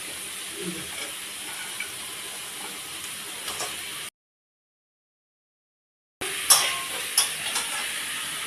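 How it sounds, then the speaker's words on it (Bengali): Fried crab cooks with ginger garlic paste in a pan, a continuous close sizzle with stirring scrapes that drops out briefly in the middle, then a louder hiss and clatter as water goes in. "তারপরে যখন আদা রসুন বাটা দিয়েছি, তাই যে কাঁকড়াটা ভেজে নিয়েছি, এবার দিয়ে কষিয়ে জল দিচ্ছি"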